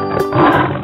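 Short, loud lion roar heard close up, a rough, growling burst lasting under a second.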